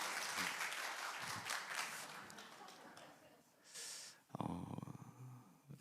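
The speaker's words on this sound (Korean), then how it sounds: "박수까지" Church congregation applauding during a Korean worship service, a sustained burst of clapping that fades after about four seconds, followed by brief sounds of movement and a voice.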